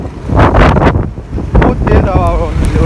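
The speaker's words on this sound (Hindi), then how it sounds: "बहुत तेज हवा होने लग गई है" Strong gusts of wind buffet an outdoor microphone during a roadside stop by a bike, producing loud, uneven low rumbling that surges and eases throughout, with a voice speaking briefly over it.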